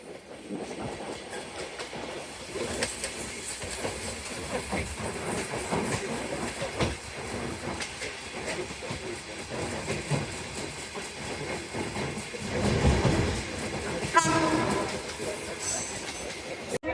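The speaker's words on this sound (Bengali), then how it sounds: "আমাদের ট্রেনটি এখন Gendaria rail station through pass করে যাচ্ছে" A train runs through Gendaria railway station in Dhaka on a single dual-gauge line, heard from on board as a steady, close rumble with wheel clatter and a brief squeal toward the end.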